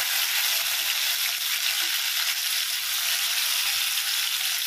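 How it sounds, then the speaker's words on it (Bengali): A bay leaf and a dried red chili fry in hot oil, giving a continuous bright sizzle that stays close and even from start to finish, with no talking. "একটা তেজপাতা, একটা শুকনো লঙ্কা। এগুলো আমি হালকা কয়েক সেকেন্ড ভেজে নেব।"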